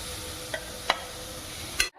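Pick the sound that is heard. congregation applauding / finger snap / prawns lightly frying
prawns lightly frying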